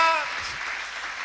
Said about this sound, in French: on acclame le Seigneur. On l'acclame.